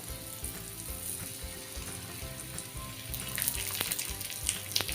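Prawns frying in oil with scattered garlic cloves in a single pan, an even crackling sizzle that grows louder and busier toward the end, with a few sharp pops, heard close with no speech.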